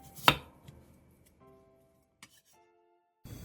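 A knife cuts a potato into thick rounds on a board with one sharp, close chop, followed by a few faint knocks in an otherwise quiet kitchen.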